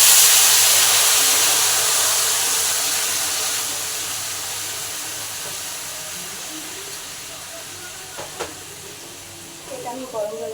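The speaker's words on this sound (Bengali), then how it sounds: "এবার এটা আমি গরম জল অ্যাড করবো।" Hot water poured into a frying pan of browned ol (elephant foot yam), potato and prawn curry gives a loud, broad steaming hiss that slowly fades, with a few faint clinks near the end.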